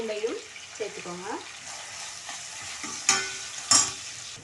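Crushed ginger and garlic stirred in a frying pan for a chicken curry, giving a steady sizzle with scraping strokes and a couple of sharper clinks, with a voice speaking over it early on.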